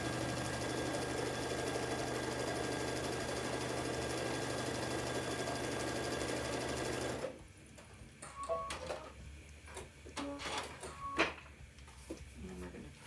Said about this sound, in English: we're sewing on line number 2